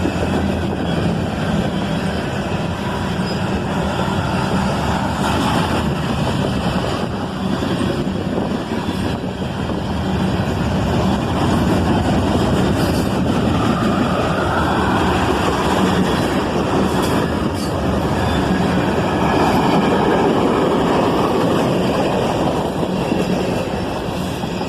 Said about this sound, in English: Q507, another southbound mix manifest.